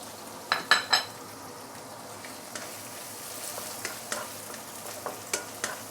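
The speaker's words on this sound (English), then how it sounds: "Give it a few stir." Rehydrated shiitake mushrooms are stirred in a hot pan on an induction cooker. A few sharp clinks of the utensil against the pan ring out at first, then lighter scrapes and taps follow over a quiet, steady frying hiss.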